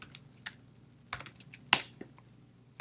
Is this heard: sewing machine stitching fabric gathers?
no